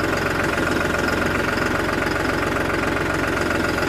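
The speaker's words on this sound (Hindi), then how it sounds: "3630 स्पेशल एडिशन की आवाज़ तो आप लोग ज़्यादातर जानते ही हो कि किस तरीके की है" A New Holland 3630 Special Edition 4WD tractor engine runs steadily at idle, a close, loud diesel rumble with a dense, even knocking throb that holds unchanged throughout with no talk.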